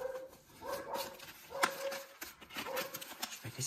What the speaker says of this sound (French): Pourquoi ils aboient comme ça?